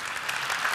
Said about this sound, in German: Aber vorher nochmal einen dicken Applaus für Florian Heinemann